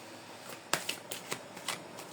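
Oracle cards shuffled by hand for a card reading, a quiet run of soft papery riffles and flicks with several sharper slaps, close by and heard alone.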